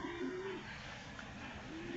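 Racing pigeons, just back from a flight, give low soft coos, faint and somewhat distant, repeated a few times against quiet outdoor background noise.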